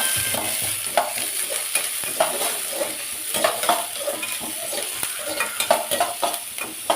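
Okra sautéed in oil in a cooking pan, a steady sizzle with repeated scraping and stirring strokes and light utensil clinks against the metal, close and moderately loud, with no talking.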